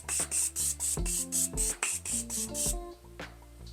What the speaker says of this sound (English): Take my Morphe spray, if I even have anything in there